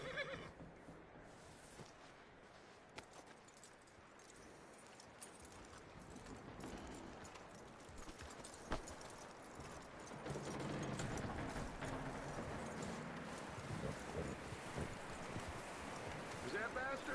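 A horse in the Red Dead Redemption 2 video game whinnies and its hooves clop on the ground, set against a faint ambient wind bed, with a louder stretch of movement later on.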